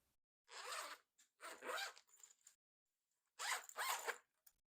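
Zipper on a laptop sleeve case pulled in three quick strokes, close and crisp, with short pauses between each run of teeth.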